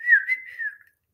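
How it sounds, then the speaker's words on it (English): A single person whistles outdoors in the countryside to call a dog, a bright, clear tone of about a second that slides downward and then holds, close and alone with no talking. "I whistle for him."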